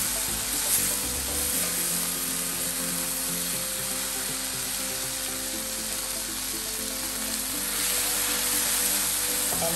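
Penang char kuey teow noodles with egg stir-fry in a wok, giving a continuous loud sizzle with a dense hiss and steady background hum and no voices.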